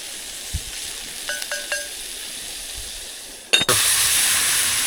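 Eggplant and onion sizzle steadily in a small Dutch oven outdoors, with a constant frying hiss. A few faint metallic clinks come partway through, then a sudden louder rush of sizzling follows.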